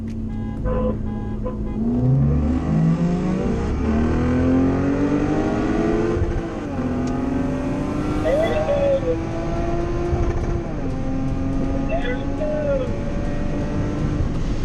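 A Lexus ISF with a V8 and 8-speed transmission accelerates hard, its engine note climbing through several upshifts with brief drops between gears, loud and close from the cabin.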